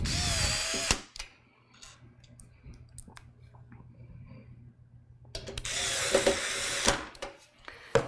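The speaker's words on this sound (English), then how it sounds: "So I've got that screwdriver torque setting down to very low" A power screwdriver set to low torque drives screws into a computer power supply, giving two loud whirring bursts at the start and near the end with quiet handling clicks between.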